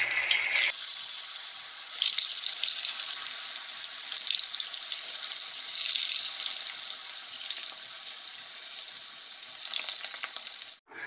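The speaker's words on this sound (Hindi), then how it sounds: "उसके बाद जो हमने सोया चाप पानी में से निकाली थी उसके बाद हम उसे तेल में तलने के लिए डाल देते हैं।" Pieces of soya chaap fry in hot oil in a wok with a loud, steady, crackling sizzle. It starts abruptly after a brief quiet moment and runs continuously for about ten seconds before cutting off.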